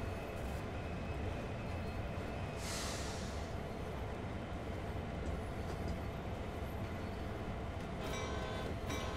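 A diesel train in the Train Sim World 2 game slows under its independent brake, with a low steady rumble and brief hissing bursts of air release, fairly quiet throughout.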